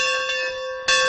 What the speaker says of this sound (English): Students were ringing this bell.